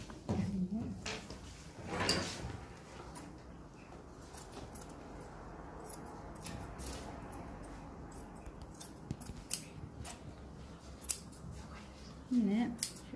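Scissors cutting fabric for a bra cup pattern while draping a cupped bustier: close, intermittent snips and sliding blade clicks spread throughout, with quiet room tone and occasional handling noises.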